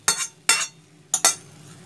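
Boiled moong dal goes into a pan of fried fish head cooked with spices for Bengali dal, giving four sharp clinks and plops of a spoon against the pan with quiet pauses between.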